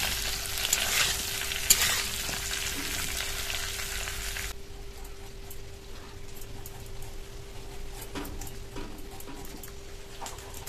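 Sliced ridge gourd frying on high heat in oil left from frying fish, a loud steady sizzle that drops sharply to a quieter crackle partway through, with occasional stirring clicks.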